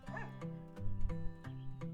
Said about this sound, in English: a big dog jumps out of the bush and fetches Jonas' charm